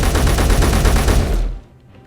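Rapid automatic rifle fire in Space Engineers, a dense continuous burst of loud shots lasting about a second and a half before cutting off into a short fading tail.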